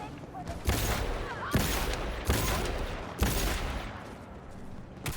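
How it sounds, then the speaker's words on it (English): Enemy gunfire in Cyberpunk 2077, four heavy bursts of shots arriving roughly a second apart, each a loud crack trailing into noisy echo, with a voice talking faintly between them. "Can this guy stop shooting me?"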